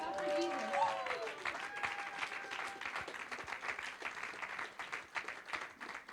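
A church congregation applauding for Jesus, a broad wash of clapping that follows a brief voice at the start and carries on steadily, with scattered sharper claps standing out within the crowd.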